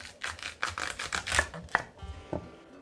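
Kitchen knife slicing radish thinly for kimchi on a cutting board, a quiet run of about ten crisp, rhythmic cuts, close and alone.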